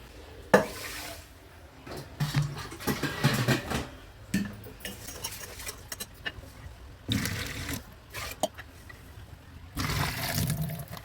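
Horse gram is rinsed with water in a metal pot, splashing and sloshing in several bursts, with light clinks of the vessel between them, close and moderately loud.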